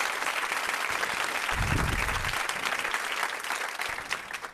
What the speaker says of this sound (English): Let me play the applause.